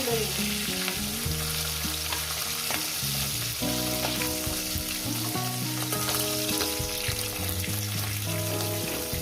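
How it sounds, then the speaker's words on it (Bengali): Rohu fish heads fry in hot oil with a loud, continuous crackling sizzle that fills the whole stretch, while melodic tones play underneath. "আমি মাছের মাথাগুলো ভেজে নিয়েছি"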